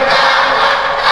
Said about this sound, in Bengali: অতএব দেখে একটা জোরে করে তাকবীর দেন, লিল্লাহে তাকবীর